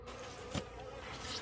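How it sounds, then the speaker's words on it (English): Bees buzzing steadily around an empty, abandoned hive during a bee rescue, a soft continuous drone with one brief louder burst near the start and no talking. "I'm gonna just chase these bees out."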